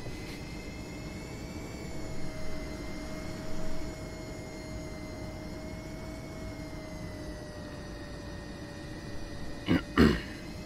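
A jet aircraft in the DCS flight simulator holding on the runway before takeoff, a steady whining engine drone with high tonal hum throughout, a couple of brief clicks near the end.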